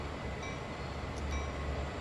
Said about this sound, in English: Imagine having to wait for this train, a train that's a mile long